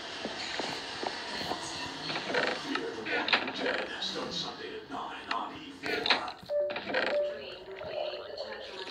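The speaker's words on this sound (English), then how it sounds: "Granny's opening doors." In the horror video game Granny, doors creak open amid steady footsteps and clunking mechanical noises, all fairly loud and close, with a brief squeal partway through.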